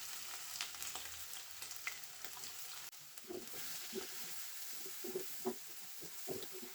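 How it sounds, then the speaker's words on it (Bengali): Chopped onions and whole garam masala sizzle in hot oil for a chicken bhuna. The frying is quiet and steady, with soft stirring scrapes and small pops, and no voices. "পেঁয়াজ কুচি দিয়ে দিলাম"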